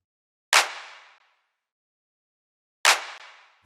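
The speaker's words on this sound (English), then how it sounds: "For the clap I have two sounds here." Two crisp, bright clap hits spaced about two seconds apart, each ringing out in a roomy decay before silence.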